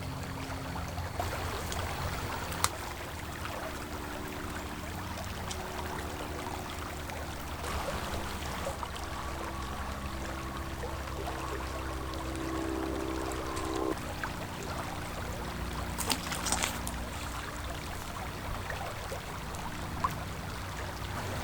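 River water flowing steadily with a continuous rushing, trickling wash, faint and unbroken, with occasional small splashes and no voices.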